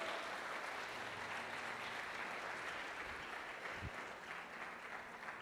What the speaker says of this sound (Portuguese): Você pode aplaudir pela vida dela?